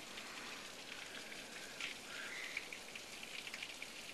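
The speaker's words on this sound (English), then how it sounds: "Now we're finally getting a little rain around here." Steady rain patters and hisses across the whole stretch, even and moderately loud, with a few faint drip sounds standing out.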